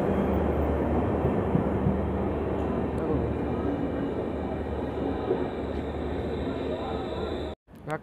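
The Vananchal Express, hauled by a WAG-4 locomotive, rolls into platform 4 at Sainthia station with a loud, sustained rumble and clatter of wheels that continues before cutting off abruptly near the end.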